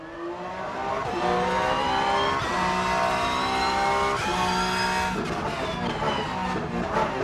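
A Porsche race car in the Rennsport video game laps the Spa circuit, its engine loud and close. The note holds a steady high drone and steps down briefly at two quick gear shifts.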